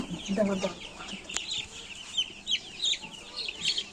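Broiler chickens cluck and chatter nearby in short, irregular bursts, with a scratchy, busy farmyard texture throughout.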